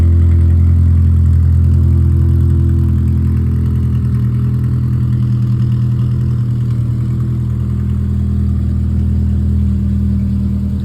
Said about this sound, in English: Here is a sound clip of the car.